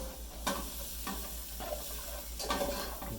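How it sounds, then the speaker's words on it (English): Italian sausages sizzle steadily in a pan with a soft crackling hiss, interrupted by a few scraping stirs of a utensil at irregular intervals. "Hear that sizzle, sizzle, sizzle."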